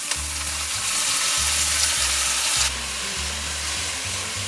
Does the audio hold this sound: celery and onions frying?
yes